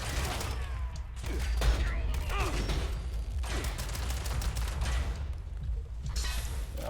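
Gunfire in the Fallout 76 video game during a fight against ballistic gutsies, with a rapid run of repeated shots and mechanical clatter over a constant game background.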